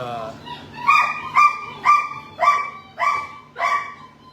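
Three small, very sick dogs covered in mange give a run of six evenly spaced, high, whiny barks and yips, mixed with whimpering, close to the microphone with a low background hum.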